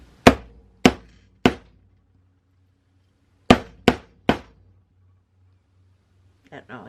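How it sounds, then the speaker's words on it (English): Six sharp, loud strikes of a plastic mallet on a metal beehive chain link being work hardened, struck in two quick bursts of three with a pause between, on a quiet bench. "I don't have a rawhide mallet, so we're going to use this, like, plastic one."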